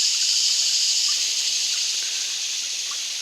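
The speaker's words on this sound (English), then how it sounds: "You hear the water and you hear the insects, but Chris, you heard a bird lately?" A steady, faint, high hiss of insects and trickling water fills a still swamp in Green Swamp. It is continuous and distant, with no birds or voices heard.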